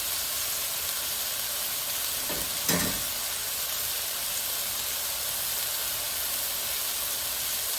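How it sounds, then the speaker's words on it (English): Chopped leftover ham sautés in a pan with a steady, close frying hiss and sizzle, broken by one brief louder stir midway. "So we'll get this all sauteed up and I'll bring you back"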